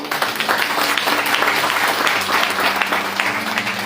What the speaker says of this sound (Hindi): ताली बजाओ भाई लोगों के लिए